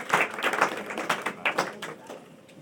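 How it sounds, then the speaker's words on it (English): A small audience at a United Nations panel gives scattered applause: a thin run of separate, close claps that thins out and fades within a few seconds. "a round of applause right up front."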